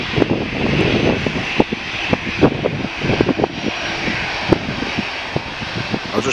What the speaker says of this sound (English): it's EasyJet going to Geneva going first, which as we know by now is an Airbus A320